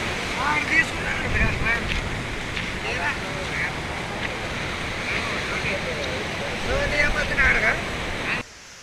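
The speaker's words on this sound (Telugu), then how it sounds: "ఇంకా నీళ్ళు వస్తూనే ఉన్నాయి ఇక్కడ పోతూనే ఉంటాయి నీళ్ళు చాలా స్పీడ్గా అయితే వస్తున్నాయి" Fast-flowing Tungabhadra river water rushes in a steady broad roar near Rajoli Banda, with wind buffeting the microphone and a few faint voices, the flow continuing until a sudden cutoff near the end.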